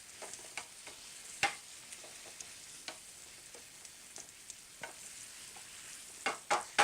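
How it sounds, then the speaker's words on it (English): Beans being mashed and stirred in a pan, a quiet background sizzle punctuated by repeated sharp scraping knocks of the utensil, spaced irregularly and growing busier toward the end. "You want to mash the beans a little bit while you're doing this."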